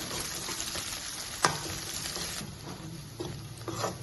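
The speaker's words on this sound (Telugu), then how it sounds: "ఇప్పుడు ఇవి ఫ్రై చేస్తున్నాం లైట్గా" Chopped onions and green chillies fry in hot oil with a continuous soft sizzle, broken by occasional stirring scrapes and one sharp clack of a utensil.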